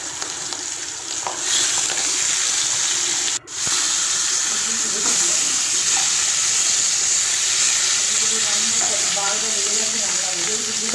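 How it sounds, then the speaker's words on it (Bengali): Fish heads sizzle and fry in a pan, a steady bright hiss with faint stirring scrapes and a brief break partway through, close and continuous with no talking. "তো মাছের মাথাগুলো ভাজা চলছে"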